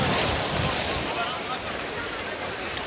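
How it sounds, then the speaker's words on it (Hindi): Sea waves wash onto the beach at Mubarak Village, Karachi, a steady broadband surf roar with wind buffeting the microphone, loud and continuous throughout with no distinct breaks. "समंदर की मौजें"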